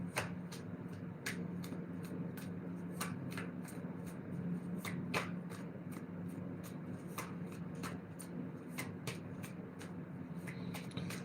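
Tarot cards are shuffled close up in quick, crisp riffles and slaps that repeat irregularly over a low steady background hum. It is quiet overall, with no speech.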